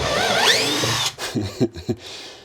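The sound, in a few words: electric power tool removing a van floor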